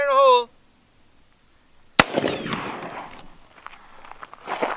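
Gunshots fired at a U.S. military padlock: one sharp, loud crack strikes after a voice counts down, followed by a lingering metallic rattle and clatter of debris.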